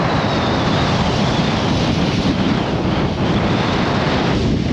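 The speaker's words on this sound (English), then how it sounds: "Here we go, big wave, big wave." Big waves crash on the rocky Lake Erie shore during a strong, freezing storm. A continuous loud roar of surf is mixed with heavy wind buffeting the microphone, and no one speaks.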